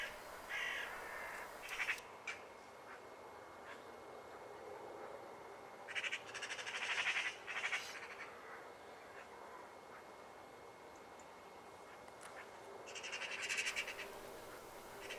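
Magpies calling at a feeding spot outdoors, harsh chattering bursts coming in short clusters over a quiet background, moderately distant.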